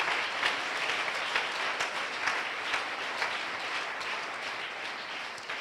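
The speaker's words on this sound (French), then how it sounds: "Give the Lord a big clap" A church congregation at a thanksgiving service claps for the Lord, a sustained, even roar of many hands with occasional sharper claps standing out, continuing without pause and free of speech.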